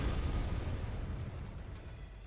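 Distortion Field spell cast in Elden Ring rolls out as a dense, rumbling low-end blast that holds steady and loud for a couple of seconds, with a broad roaring wash and no talk.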